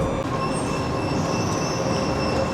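A metro train runs at speed on the underground in Minsk or Vilnius, a loud steady rumble with high wheel squeal and whine over the top, continuous and close.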